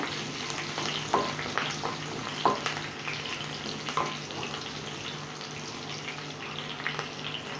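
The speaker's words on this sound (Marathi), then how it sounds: "मिरच्या टाकायच्या त्याच्यामध्ये आणि आपल्याला चांगलं चटपटीत असे कांदेपोहे बनवायचे फ्राय करून घ्यायचे चांगले" Green chilies frying in hot oil in a pan for kanda poha, giving a continuous moderate sizzle and crackle with a few soft utensil knocks, close by and without speech.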